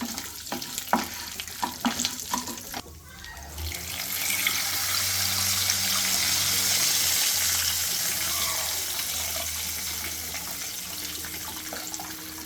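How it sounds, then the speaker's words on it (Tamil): A few clinks and scrapes, then tamarind water is poured into a hot pan and gushes and sizzles steadily for several seconds. "நம்ம அந்த புளி தண்ணியை விட்டுக்கலாம்"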